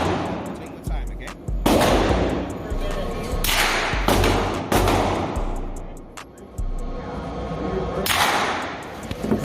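Gunshots at an indoor gun range, about half a dozen sharp loud cracks spread over several seconds with a booming reverberant tail, while people talk and laugh between the shots.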